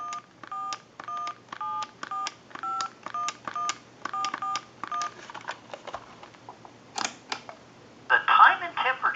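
An AT&T Trimline phone sends a rapid run of about a dozen evenly paced touch-tone beeps while a number is dialed, followed by clicks and a brief burst of line noise.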